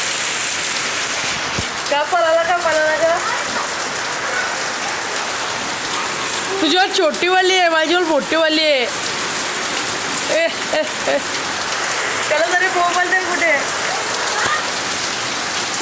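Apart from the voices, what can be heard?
rain falling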